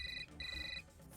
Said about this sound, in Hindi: अनु बेटा फोन उठाओ